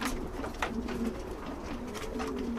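Jansen racing pigeons coo nearby in soft, repeated low calls, with several overlapping birds making a gentle continuous murmur.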